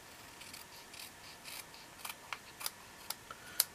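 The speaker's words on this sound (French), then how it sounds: "Je vais couper au ciseau, il y en a pour 2 secondes." Scissors snip through a paper card decoration for a New Year card, a series of faint close crisp cuts that grow sharper toward the end, with no talking.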